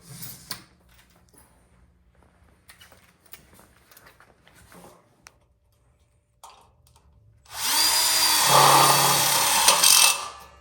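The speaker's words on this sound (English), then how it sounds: "We're going to go ahead and slip the top track in on the top here and screw that in now." A power drill drives a screw into the metal top track of an outdoor kitchen frame, a quiet stretch of small handling clicks and taps giving way to a loud close burst of whirring near the end.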